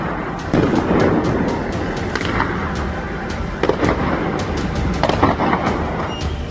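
Gunfire during violent street protests in Iran: rapid sharp cracks and pops ring out over a continuous rumbling, wind-buffeted outdoor roar, some shots closer and louder than others.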